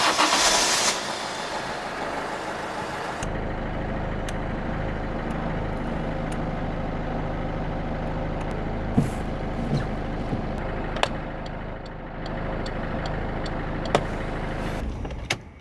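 A Citroën C3 1.4 HDi is started, with a loud burst at the start, then the engine settles into a steady idle while faint clicks, likely turn signals, tick at intervals; no speech.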